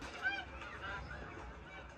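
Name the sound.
goose honking in an anime episode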